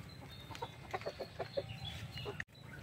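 Rhode Island Red chickens on a breeding farm cluck and murmur in a series of short, fairly close calls over a steady low background hum, broken by a brief dropout near the end.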